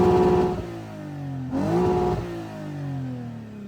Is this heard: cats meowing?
no